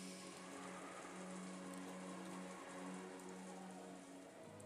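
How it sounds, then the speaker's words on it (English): Gentle rain falling in the video game Umineko, an even, continuous patter with a low steady hum beneath it, soft and unbroken throughout. "There was only the gentle, sorrowful rain."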